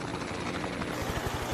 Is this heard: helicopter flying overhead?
yes